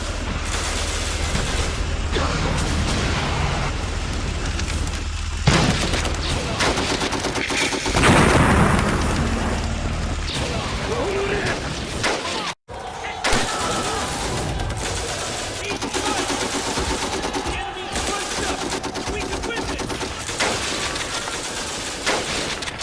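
Battle sound effects for a Lego war film set in the fight toward Singapore with Australian anti-tank guns: dense, continuous gunfire and machine-gun bursts with booms and mechanical clatter, under occasional voices, with a brief dropout midway.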